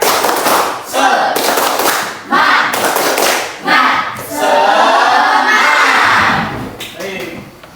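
Elementary schoolchildren in a classroom clap together in a rhythmic spirit cheer, loud bursts of group clapping and chanting voices in repeated phrases, building into a longer noisy stretch near the end.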